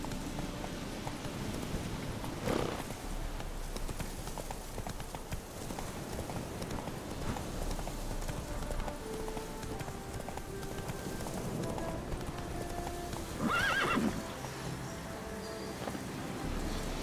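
Horse hoofbeats from The Witcher 3, a steady clip-clop of a galloping horse over an outdoor game ambience, with a brief louder burst near the end.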